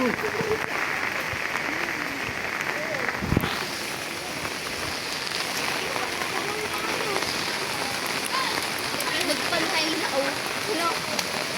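Heavy rain from a shear line pouring down in a flooded barangay, a steady dense hiss of rainfall on surfaces that runs throughout, loud and continuous.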